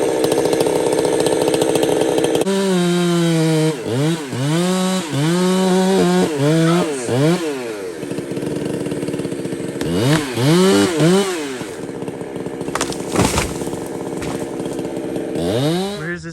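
A chainsaw cutting a large cottonwood tree revs up and down repeatedly during the back cut, loud and close, with a sharp crack partway through.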